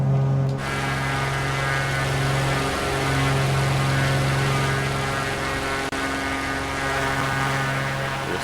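Simulated Beechcraft aircraft cruising over Toronto, a steady loud engine drone with a propeller hum throughout, unbroken apart from a faint click, no talk.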